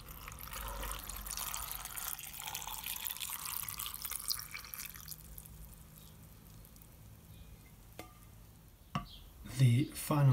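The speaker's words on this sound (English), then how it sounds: "we are going to simply add it to the pickles to be." Salt brine pours and drips onto pickles set to ferment, a steady splashing pour that fades into quieter trickles and a few later drips and clinks.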